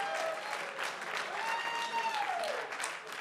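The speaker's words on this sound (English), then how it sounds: "If you're over 40 and you know it, clap your hands." Comedy club audience clapping their hands at a stand-up show, a steady dense wash of applause filling the whole stretch, with a faint tonal whistle-like sound drifting through it.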